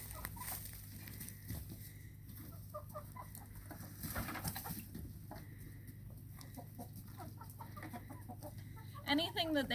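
Backyard chickens cluck softly and intermittently in the background on a garden homestead, faint and somewhat distant, with a brief louder squawk near the end.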